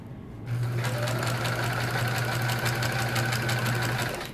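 Sewing machine binding a quilt: after a brief quiet start it whirs up into a steady, rapid, close stitching hum that runs evenly for about four seconds, alone without speech.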